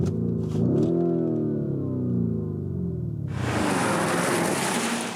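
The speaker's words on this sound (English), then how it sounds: "Lamborghini has to sound like this" A 2021 Lamborghini Urus SUV engine rumbles and rises in pitch as it revs, then bursts into a louder, broader roar that holds steady, close and strong.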